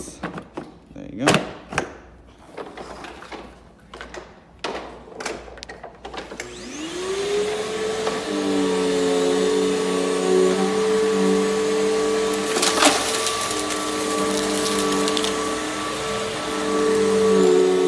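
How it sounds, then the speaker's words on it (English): A Bissell vacuum cleaner with no brush roll runs over rubber-backed carpet, picking up a big mess; a few sharp knocks and bumps precede a loud, steady motor whine that holds close and continuous to the end. "we'll do a quick big mess test with a Bissell that has no brush roll"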